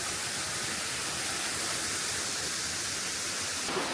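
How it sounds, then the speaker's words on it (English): A waterfall right beside a hiking trail in Costa Rica makes a loud, continuous rushing roar of falling water. The sound is close and steady, with no other sounds standing out. "This is the first hike that I've done where I'm actually hiking directly alongside a waterfall."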